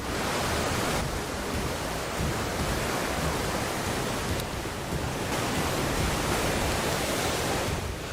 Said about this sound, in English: The waves reached the first buildings in the village.